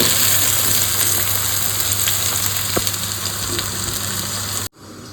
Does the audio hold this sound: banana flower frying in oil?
yes